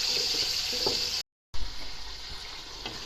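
Onions frying in oil in a pan for daal chawal, a steady hissy sizzle close by that cuts out briefly and resumes with a soft clatter.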